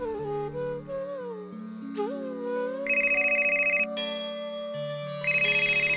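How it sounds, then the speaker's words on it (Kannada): A telephone rings with a melodic electronic ringtone in a home where a household prayer is under way, the tone repeating in bright bursts over a sustained musical background, with no talk. "ಯಾರಾದರೂ ಬಂದು ಫೋನ್ ರಿಸೀವ್ ಮಾಡಿ."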